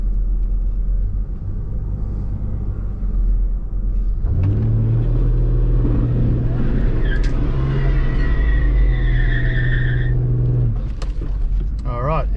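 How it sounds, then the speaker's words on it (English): A VL Commodore with an RB30 turbo engine doing a brief burnout in first gear, a loud low engine rumble climbing in pitch with rising revs and tyre squeal for several seconds before backing off. "All right, it did do a burnout"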